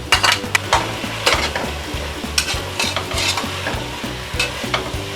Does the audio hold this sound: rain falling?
no